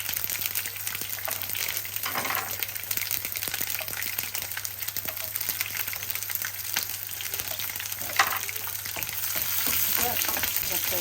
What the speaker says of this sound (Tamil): இப்போ நீங்கள் இறால் கத்திரிக்காயெல்லாம் பொரிக்கணும் நிறைய எண்ணெய் பாவிக்கணும்